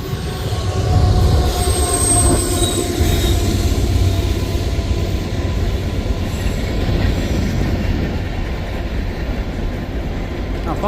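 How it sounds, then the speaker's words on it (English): A train rumbles past close by near the Heart of Iowa Trail, with steady clattering wheels and faint metallic squeals over a loud continuous roar. "Train!"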